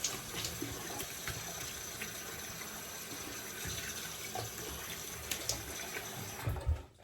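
Tap water runs steadily at a sink while a vintage 1970s Wilkinson Sword bonded razor is rinsed, a faint continuous hiss with small splashy clicks and a bump at the end.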